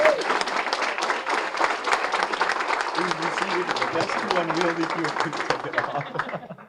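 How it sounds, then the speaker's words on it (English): A banquet audience applauds the Youth of the Year winners at a Boys and Girls Club event, sustained dense clapping throughout, with a speaker's voice briefly heard underneath partway through. "one more round of applause for our Youth of the Year."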